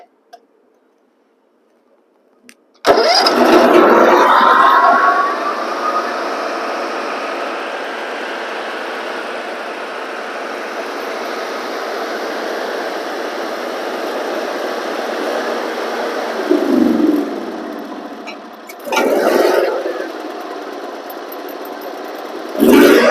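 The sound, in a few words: 18 horsepower Vanguard engine running on choke, diesel in gas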